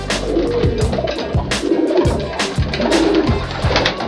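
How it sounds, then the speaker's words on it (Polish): Pigeons in a breeding loft coo loudly and repeatedly, overlapping rolling calls from several birds close by, with wing flutters and scuffling mixed in throughout. "to są gołębie"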